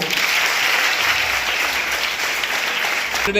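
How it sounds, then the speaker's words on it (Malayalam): Students applaud together in a school setting, a dense, loud burst of clapping that holds steady and then cuts off at the end. "ഐക്യത്തിന് നല്ലൊരു ക്ലാപ്പ് കൊടുക്കുക"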